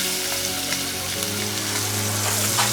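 Yam and egg sauce sizzles steadily in a pan while being stirred, a continuous close frying hiss over a low hum, with no talking.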